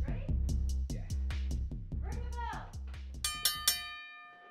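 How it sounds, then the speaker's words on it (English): A ring bell clangs three times in quick succession to start a tag team wrestling match, the sharp ringing strikes coming right after a stretch of loud voices and crowd noise. "Bell is rung and we are underway here in this tag team match."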